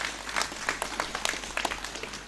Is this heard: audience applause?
yes